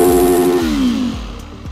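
A motorcycle engine revved hard for a 112 dB noise check at a championship event, a loud high whine that drops in pitch as the throttle eases, with a few rhythmic low pulses underneath.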